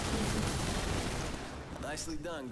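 Gunfire in the action video game DmC Devil May Cry comes as dense, continuous bursts of shots and impact noise filling the first half, with someone talking over the game sounds.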